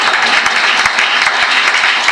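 A crowd at a Holi-season Hindi comic poetry recital claps loudly and continuously, a dense, close wash of applause with a few sharper individual claps standing out.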